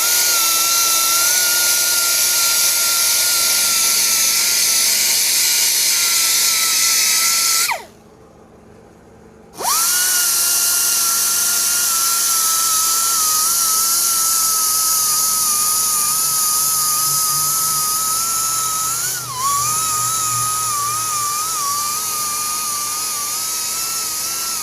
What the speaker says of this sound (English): let me go ahead and start grinding this